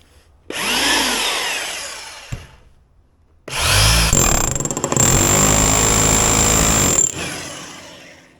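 Bauer SDS Max rotary hammer running in two bursts, a short one then a longer one of about three and a half seconds, loud close hammering chatter with a high whine, stopping abruptly.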